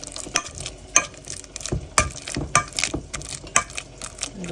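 Banana is mashed and mixed into rice flakes, producing close, soft squishing and stirring strokes with light clicks of a spoon against the bowl in a busy, irregular rhythm.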